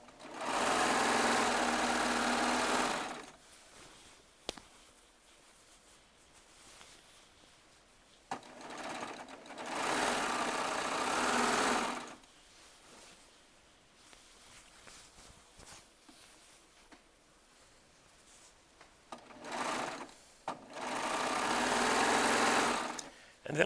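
A Baby Lock serger runs in four long steady whirring bursts, sewing batik charm squares together for a quilt, with quieter handling noise and shuffling between runs.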